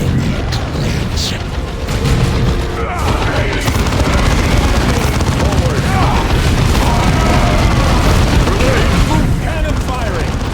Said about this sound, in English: Cannon firing! Clear the target area!